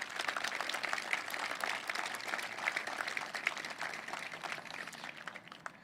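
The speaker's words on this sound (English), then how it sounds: "Let's give them a round of applause" An audience at a ceremony honoring Colorado's fallen heroes applauds their colleagues, a steady crackle of many hands clapping at moderate volume that slowly tapers toward the end.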